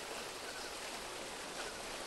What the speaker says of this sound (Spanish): Tenemos aquí arriba la cascada.